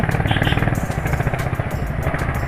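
Motorcycle engine while riding on a road just after rain, a close, loud, pulsing exhaust note with rapid rhythmic chugging throughout, alongside other bikes such as an R15 V3, KTM and Bullet 350.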